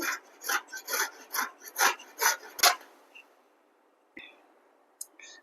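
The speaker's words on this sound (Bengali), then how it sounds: "গাজরটাকে এরকম সরু স্লাইজার দিয়ে ঘষতে হবে যেন ভালো মিহি হয়" A whole carrot rasped against a fine slicer, a run of about eight rhythmic scraping strokes, close and fairly loud, then a pause with a couple of light knocks.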